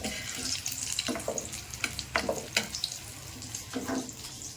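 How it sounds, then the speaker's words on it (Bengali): Topse fish beguni, battered fish fritters, fry in a home kitchen with a steady hiss broken by scattered sharp crackles and pops, with no voices. "তপসে মাছের বেগুনি ভাজছে"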